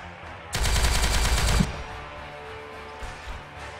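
A single burst of rapid automatic gunfire in the Warhammer 40,000: Regicide video game, loud and sharp for about a second, followed by quiet background ambience with a few faint thuds.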